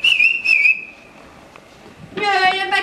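During a fifth-grade school nativity play, someone blows a sustained, slightly wavering whistle to call a character, followed shortly by a burst of children's voices.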